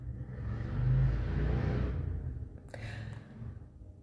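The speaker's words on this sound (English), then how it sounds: "Did you hear that motorcycle?" A motorcycle swells past in the distance, its engine rising and fading over a couple of seconds, followed by a brief clatter.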